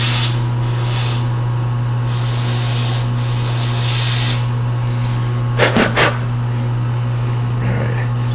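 Cleaner spray hisses in short bursts onto a Chevy mass airflow sensor, two quick close sprays standing out over a steady low hum, with softer rubbing sounds around them.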